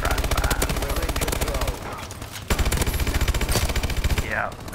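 Rapid automatic gunfire from the MP11 Goliath in Call of Duty: Advanced Warfare, sustained bursts of fast repeating shots with a brief lull midway, loud and close.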